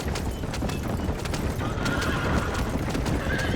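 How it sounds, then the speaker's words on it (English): In the Red Dead Redemption video game, a horse whinnies loudly while its hooves clip-clop in a steady rhythm close by. "That horse is going wild."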